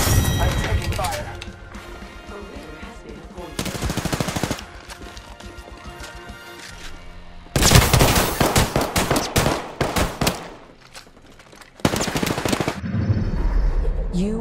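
Loud automatic gunfire in Apex Legends comes in several heavy bursts separated by quieter gaps, with shots ringing close and sharp while a voice speaks between volleys.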